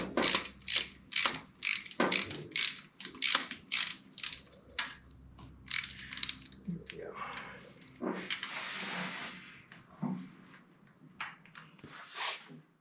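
A ratchet socket wrench clicks in quick repeated bursts while tightening a mount onto the head of a Ford flathead 8BA engine, close and loud, with short pauses between strokes and brief mechanical rattles.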